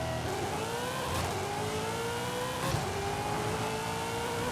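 A Corvette race car in Forza Horizon 5, fitted with a parachute, revs hard and steadily, its engine note climbing through the gears with a brief surge near the end. No voices, just the loud, continuous engine.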